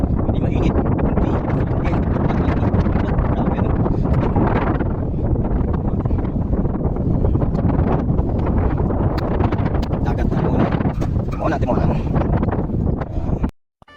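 Strong wind high on a tower roars continuously against the microphone, loud and buffeting, with a voice speaking briefly beneath it before it cuts off.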